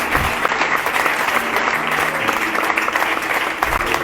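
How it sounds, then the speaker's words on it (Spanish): Congregation applauding during a church sermon, a loud, dense burst of clapping with a steady texture and a faint low murmur beneath. "Dale un aplauso a Cristo que todavía habla."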